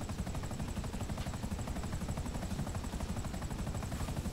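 An aircraft engine in the video game GTA 5 drones steadily with a fast, rhythmic pulsing throb throughout, fairly quiet and with no speech over it.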